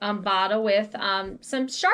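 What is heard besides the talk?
No everyday noises stand out.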